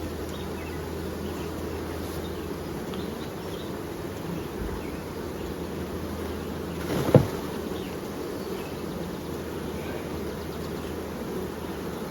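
Honey bees shaken into a tray for sampling fill the air with a steady, dense buzzing hum close by, with a brief knock or rustle midway.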